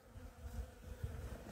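Honeybees buzz steadily on a hive frame holding drones and bee bread, a dense continuous hum close by with no talk.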